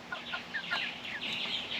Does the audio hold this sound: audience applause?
no